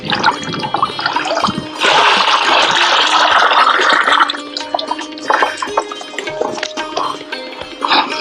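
Dissolved jaggery water, about 2 kilograms of jaggery, is poured into a jeevamrut mixture, making a loud, steady splashing gush that eases into uneven sloshing and dripping, with no voices.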